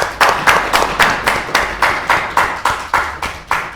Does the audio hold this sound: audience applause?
yes